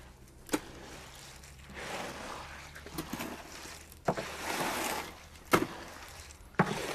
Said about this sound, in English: as you see with the garden hoe and the wheelbarrow, you could mix a bag of concrete in no time